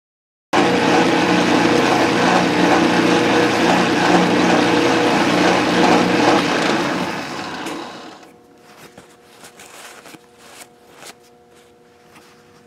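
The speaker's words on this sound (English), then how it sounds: "So we're going to cut 36 thousandths deep on this sucker" A metal lathe cuts a multi-start thread 36 thousandths deep, a loud, steady whirring and chattering machining noise that runs for several seconds, then winds down to faint clicks and shop sounds.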